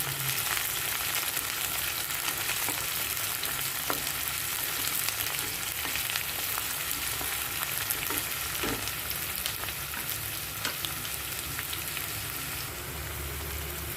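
Onions frying in a pan for Kashmiri gande te alve, a steady close sizzle and crackle that runs unbroken throughout, with occasional stirring clicks and no voices.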